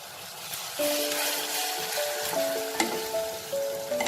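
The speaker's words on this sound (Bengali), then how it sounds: "যতক্ষণ আমাদের আদা রসুনের কাঁচা স্মেলটা চলে না যাচ্ছে এটাকে আমার ভাজতে হবে" Ginger garlic paste fries in a pan with a steady, dense sizzle throughout, joined by faint sustained tones near the end.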